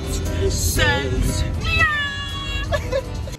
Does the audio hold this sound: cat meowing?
yes